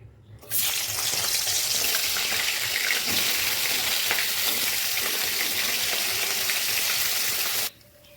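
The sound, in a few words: fish heads frying in oil in a wok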